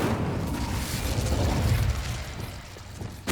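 The Incendio fire spell cast in Hogwarts Legacy, a dense roaring whoosh of flame with low rumble that holds steady for a few seconds and then fades, with no talk.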